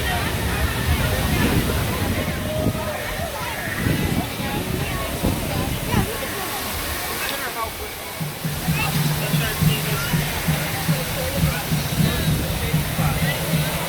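A water fountain at Disney's Animal Kingdom in Orlando splashes in a steady, full rush of falling water, loud and close, with a low engine-like hum entering later and people's voices around it.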